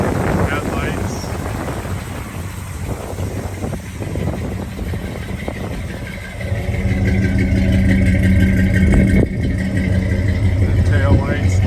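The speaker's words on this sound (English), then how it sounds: "there you can hear the engine, sounds good. Runs nice and smooth." A 1976 Ford F150 with headers and dual exhaust idles steadily, a low continuous engine rumble that thickens and grows louder partway through, with wind buffeting the microphone and a voice speaking over it.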